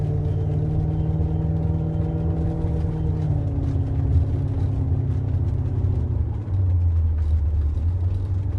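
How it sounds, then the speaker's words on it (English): Engine of a 1994 BMW E34 530i wagon revving through its throaty exhaust, a loud steady low rumble with clear harmonic tones that sweep down as the revs fall, close by with no talk. "So you got that nice rev from the exhaust, throaty exhaust."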